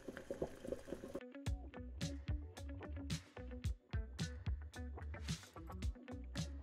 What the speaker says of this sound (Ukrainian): На плиті вже розігрілася вода, туди відправляємо в гарячу воду, гарячі заварні вареники з полуницею